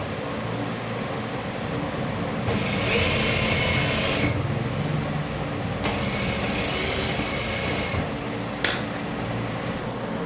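Sewing machine stitching along the edge of a piece for a double-piped cuff, a steady motor whir with bursts of faster, louder stitching that start and stop several times.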